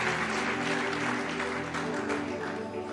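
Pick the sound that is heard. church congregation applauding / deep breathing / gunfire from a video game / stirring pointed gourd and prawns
church congregation applauding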